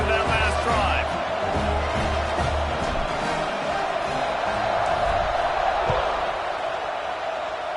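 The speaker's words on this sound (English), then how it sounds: "this crowd is feeling themselves after that last drive" A stadium crowd in a football video game roars and cheers in a continuous broad wash under a commentator's voice, with a few brief whoops and thuds.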